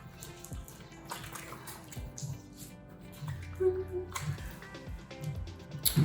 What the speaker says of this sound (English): I like to rinse and wash for a full minute, really massaging it in there.